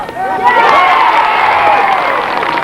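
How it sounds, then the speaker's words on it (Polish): Spectators at a local football match in Wolsztyn cheer and shout for the goalkeeper, a dense and steady wash of many voices that stays loud throughout with no clear break. "Brawa dla bramkarza."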